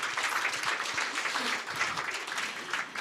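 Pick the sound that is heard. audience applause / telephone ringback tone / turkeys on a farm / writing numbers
audience applause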